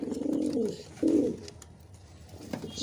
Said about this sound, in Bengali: আমি আপনাদের বাইরের কিছু কবুতর দেখাই।